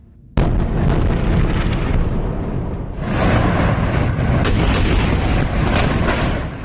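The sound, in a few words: explosions in Gaza from airstrikes, news footage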